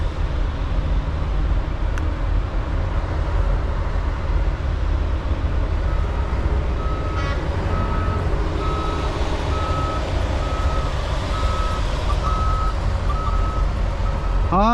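A truck's reversing alarm beeps in a steady, evenly spaced series through the middle of the clip. It sits over loud, continuous engine and road rumble heard from inside the cab while the truck turns around, and no one speaks.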